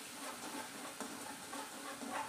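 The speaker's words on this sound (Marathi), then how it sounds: "पहिलं सर्वात प्रथम हिरवी मिरची आणि लसूण हे तेलामध्ये चांगलं परतून घ्यायचं आहे" Green chili and garlic sizzle softly in hot oil in a pan while being sautéed for a village-style spinach dish, a steady faint hiss with small crackles and a light stir.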